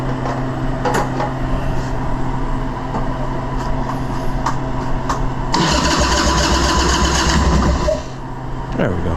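A 1981 Harley-Davidson Ironhead Sportster engine cranking on choke, a steady mechanical churn that swells louder and denser partway through, then drops back to a rougher idle-like rumble near the end, with a voice briefly heard.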